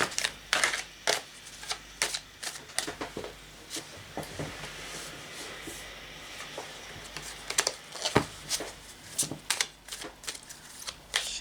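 Runic oracle cards spilling and being shuffled by hand, a run of close, crisp riffling clicks and flutters in uneven bursts with short pauses between, and no voices.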